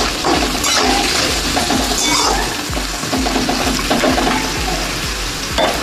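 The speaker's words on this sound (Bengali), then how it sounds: "গাজর আর বিনসটা ভেজে নেব সাদা তেলের সঙ্গে" Carrots and beans frying in white oil with salt added in a pan, giving a steady dense sizzle with stirring scrapes and occasional light clinks, loud and close throughout.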